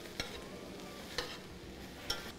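A soft, steady sizzle of vegetables sautéing in a pan, with three sharp clinks of a utensil against the pan at intervals.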